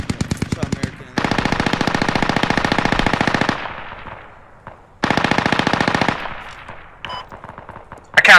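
Machine-gun fire in the military shooter game Squad, in an urban fight in Fallujah: two long sustained automatic bursts, loud and close, each trailing into echoing decay, with brief sharp shots between them.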